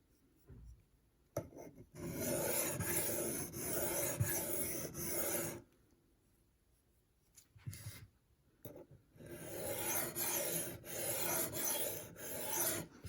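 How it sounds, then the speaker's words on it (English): A knife blade is deburred on an inexpensive sharpening system under very light pressure, giving repeated raspy rubbing strokes in long bursts with short pauses between passes, close and steady. "And right now I am deburring"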